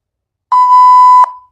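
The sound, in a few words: beep sound effect from InShot video editor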